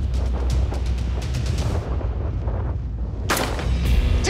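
Gunfire during a stunt shooting test recreating Star Trek and James Bond tricks: a steady low rumble runs throughout, with a loud sharp report near the end.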